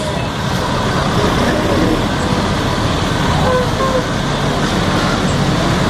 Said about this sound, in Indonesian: Inilah bis ANS yang trip ke 5 nih ANS.